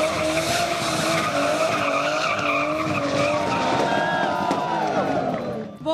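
Cars drift at a car stunt show, their tires skidding in a loud, continuous squeal with shifting whining pitches and engine roar underneath, and crowd voices mixed in before it cuts off abruptly.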